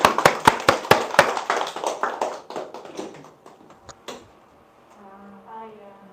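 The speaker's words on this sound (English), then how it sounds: "give him a loud applause" A small audience in a class claps for a few seconds in sharp, scattered claps that quickly thin and die away, followed by quiet talking.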